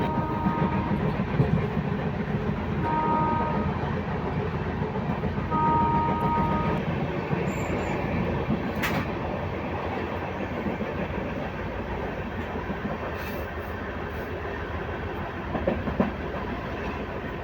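A train at Jalpaiguri Road railway station rumbles and clatters loudly and continuously, with a few short tonal horn-like notes early on and no voices.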